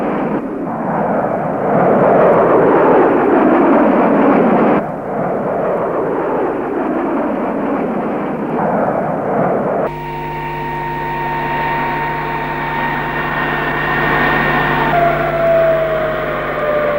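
Saab J 29 fighter jets attacking Katangese mortar positions in Congo, a roaring jet sweep that rises and fades, then a second pass, followed by a tonal, droning engine section with a higher whine near the end.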